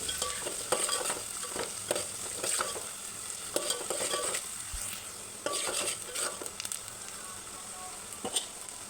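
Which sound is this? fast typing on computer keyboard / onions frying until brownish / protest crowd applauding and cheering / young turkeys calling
onions frying until brownish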